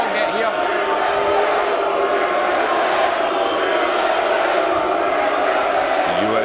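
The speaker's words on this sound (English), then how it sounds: "USA crowd getting into this" A USA crowd roars and cheers at a Mosconi Cup pool match, a dense, loud sustained swell of many voices filling the hall without a break.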